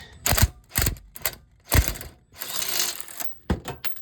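Quick bursts of ratchet clicking while removing bolts during wheel bearing work on a Nissan Murano, several short rapid runs separated by pauses, close and clear with no talk.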